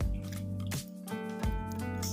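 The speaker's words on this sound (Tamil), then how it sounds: "1/2 லிட்டர் தயிர் சேர்த்துக்கலாம்." Thick curd is poured and squished onto soft cooked rice, two or three soft wet plops and slurps close by, with no talk.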